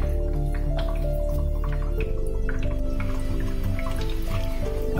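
Air bubbling steadily through salt water in a homemade brine shrimp hatchery, a continuous close gurgle of bubbles and drips under a low background hum, with no talking.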